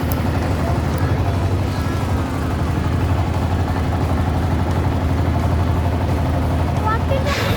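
A trawler boat's engine runs in a steady, loud, close drone with a low rumbling throb that holds unchanged throughout, with wind and water noise mixed in.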